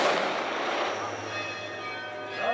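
Ceremonial cannon salute in Monaco during a religious procession, a loud sustained boom filling the clip with a long echoing rumble and crowd noise beneath, ending in a second swell near the close.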